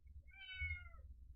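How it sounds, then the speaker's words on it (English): An angry kitten gives a single drawn-out meow that rises and then falls, faint and close, over a low room rumble. "The kitten is very angry."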